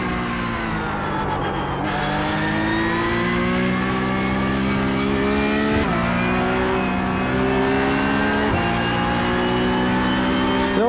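A Porsche Cup race car engine roars in the iRacing video game, a loud continuous high-revving drone with brief pitch drops at gear shifts, steady throughout with no talk.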